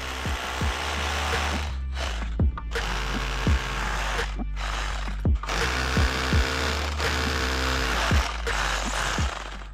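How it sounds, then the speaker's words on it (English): A 6mm SDS drill bit bores holes into a wall, the hammer-drill chatter running loud and close in long bursts separated by brief pauses and sharp knocks. "I proceed to drill my 4 holes with a 6mm SDS drill bit"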